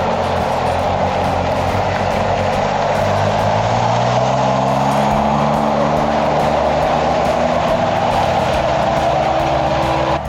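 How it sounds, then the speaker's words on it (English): A vehicle churns through mud at Buckhorn Lakes, its engine a loud, steady drone with a shifting low growl that rises and falls across the whole stretch. "These girls are not used to driving in the mud."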